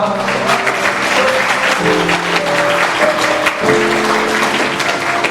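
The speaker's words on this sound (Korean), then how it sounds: "박수와 함 부탁드립니다" Guests at a wedding ceremony in a hall clap steadily and loudly as the mother enters, with music tones running beneath the applause.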